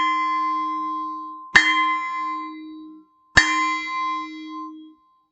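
A pot lid struck with a spoon imitates a town hall bell: two clear metallic strikes a couple of seconds apart, each ringing out with a bright sustained tone that slowly decays, alone in a quiet room.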